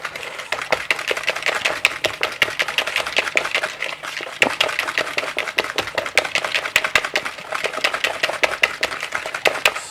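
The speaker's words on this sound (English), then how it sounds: "I'm just gonna get it a little bit of a whisk" Rapid, steady clicking and tapping of a whisk beating lemon cake batter in a bowl, close and continuous for the whole stretch, with no talking.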